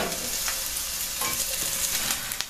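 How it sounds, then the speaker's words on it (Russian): Onions fry in a pan with a close, steady sizzle and crackle, broken by a few scraping stirs, with no talking. "Теперь обжариваем лучок до золотистого цвета."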